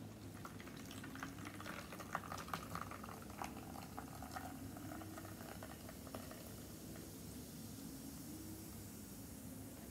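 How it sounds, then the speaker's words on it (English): Water poured into a beaker in a home experiment fizzes and bubbles steadily at low level, with small crackling pops scattered through a continuous soft hiss. "Now let's pour the water in."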